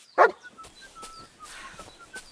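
A dog in the medieval village of Kingdom Come: Deliverance II gives a single loud, close bark, followed by faint yips and rustling ambience.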